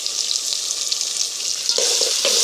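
Turmeric and salt being stirred into a dish frying in a pan, a steady close sizzle with a few scraping strokes of the spoon near the end.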